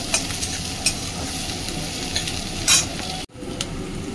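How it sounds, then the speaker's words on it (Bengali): Onions fry hard in a pan for a pomfret fish curry, giving a loud, dense, even sizzle with occasional light clinks of a utensil and a momentary cutout near the end. "চলো পেঁয়াজটা ভালো করে ভেজে নিই।"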